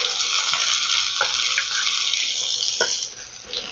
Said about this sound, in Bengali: এবার এখানে আমি দিয়ে দিচ্ছি পেঁয়াজ কুচি